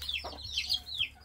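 Chickens cluck and peep in short, high chirps, fairly faint, with a few separate calls over a quiet background.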